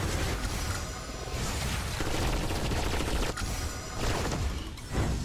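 Dense, continuous gunfire from the video game Eternal Evolution, a loud, unbroken fusillade of rapid shots with booming impacts, close and filling the whole stretch with no talking.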